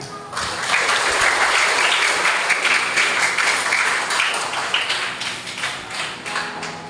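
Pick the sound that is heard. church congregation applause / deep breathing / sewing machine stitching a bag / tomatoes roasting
church congregation applause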